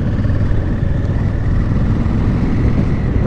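A Honda Africa Twin Adventure motorcycle engine runs on the road with a steady, dense rumble held at a constant level with no pauses.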